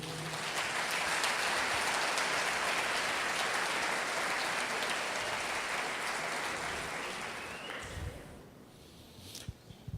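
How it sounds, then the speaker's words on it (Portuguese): Worship congregation applauding during a church service: dense, sustained clapping from a large crowd that holds strong, then fades out toward the end, leaving a few stray claps. "Você pode aplaudir o Senhor?"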